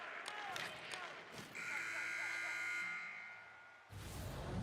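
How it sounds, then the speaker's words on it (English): A period-ending buzzer in the ice hockey video game NHL 25 sounds as a long sustained electronic tone of over a second, set amid arena crowd noise and commentary. "And there's the buzzer bringing the second period to an end."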